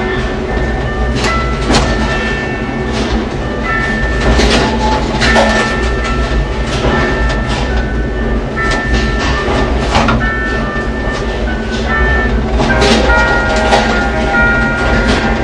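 Gateway Arch tram cabin moving through the arch in St. Louis, a loud continuous mechanical rumble with faint rattles and clicks that holds steady throughout, no talking.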